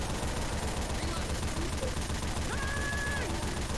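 Sustained machine gun fire from mounted turrets in the video game Left 4 Dead 2 during a generator and tank fight, a dense continuous rattle mixed with game noise and players talking over it.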